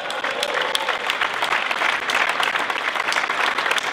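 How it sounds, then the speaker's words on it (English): A crowd claps loudly at the 2011 Sydney FC adidas kit launch, with a thick, continuous round of applause and scattered sharp claps standing out. Nobody talks over it. "A loud round of applause if you like it."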